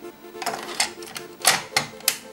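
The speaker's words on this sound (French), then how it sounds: "Il suffit de taper Entrée." Sharp mechanical clacks of keys, including Enter, pressed on an Amstrad CPC 464 keyboard, a handful of separate presses at irregular intervals, close and fairly loud.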